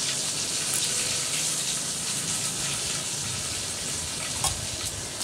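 Panch phoron and cumin seeds sizzle steadily in hot oil, a continuous close, bright frying hiss with a few small pops and crackles, with no talking.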